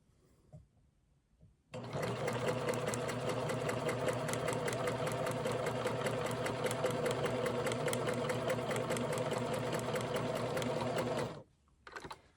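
A sewing machine stitches quilt pieces at a stitch length of 2 in one long, even, continuous run of close mechanical whirring lasting about ten seconds, with quiet before and after.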